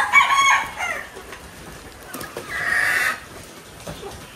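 A rooster crows loudly at close range, then hens cluck and another crow rises a moment later, with farmyard chickens being fed after rain.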